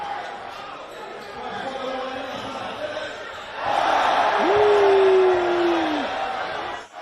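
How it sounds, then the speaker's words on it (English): A crowd at a streetball league basketball game murmurs and chatters, then erupts into a loud cheer midway, with a whistle blast and a commentator's voice over the noise. "Listen to the crowd"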